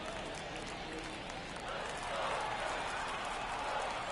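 Baseball crowd at T-Mobile Park in Seattle on an overcast Sunday afternoon, a steady broad murmur of many spectators that swells slightly partway through, heard continuously at a distance.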